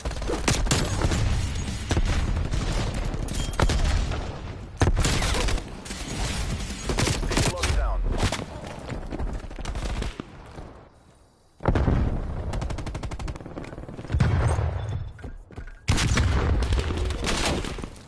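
Artillery strike in a video game: a long run of loud, dense booms and rapid gunfire bursts, with brief near-silent gaps between heavy barrages.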